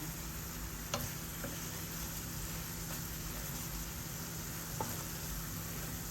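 Fish and potatoes for a Bengali bainok fish curry cook in a pan with a quiet, even sizzle, a low steady crackle with a couple of soft utensil clicks.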